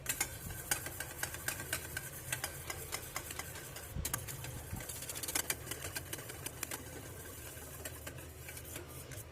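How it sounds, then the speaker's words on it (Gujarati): A motorized beater whirs steadily and continuously, beating oil and water into a thick white slurry, with a busy rattling, clicking texture throughout and no talking. "પાણી અને તેલના મિક્સરને આપણે બીટરથી જ્યારે બીટ કરવામાં આવે ત્યારે થોડાક જ ટાઈમમાં એમાંથી સ્લરી બની જાય છે"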